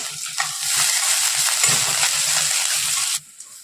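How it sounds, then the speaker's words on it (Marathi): Sliced onion is tossed into a pan of sautéing garlic, ginger and green chili, giving a sustained close sizzle with scraping stirs and clinks that cuts off abruptly. "लसूण आलं मिरची चांगली परतून झाली त्यानंतर आपण यात घालतोय कांदा"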